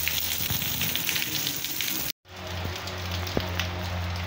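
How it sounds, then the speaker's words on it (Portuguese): Strong rainfall in Passira, Pernambuco hisses steadily and close, a brief cut to silence midway before the heavy downpour resumes with a few louder drop impacts. "Chuvada forte, chuva boa."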